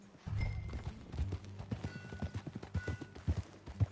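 Video game horse hooves clip-clop in a steady walking rhythm, fairly close, with a faint tonal chime now and then, on PS4.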